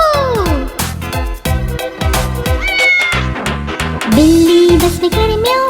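A cat meows repeatedly in loud, rising and falling cries, several in a row, close up against a bright, rhythmic children's song backing.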